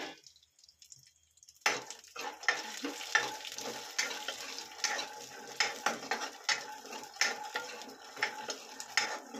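Peanuts frying in a pan for bitter gourd chutney, a steady sizzle with repeated stirring scrapes and clicks, starting after a near-silent second and a half and continuing closely and moderately loud.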